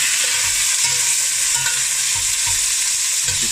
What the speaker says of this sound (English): brown off the meat. Give it a stir around.